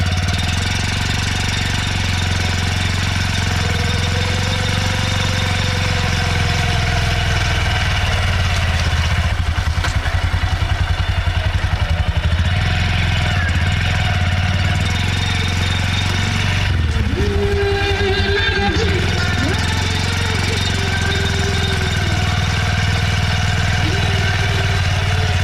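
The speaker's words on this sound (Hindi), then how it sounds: "इस बाइक का रॉ एग्जॉस्ट नोट जो है वो आप लोगों को सुना देता हूँ।" A Honda SP125 motorcycle runs at a steady idle with its raw stock exhaust note, a loud, even thrum that holds close and unbroken throughout, with no talking.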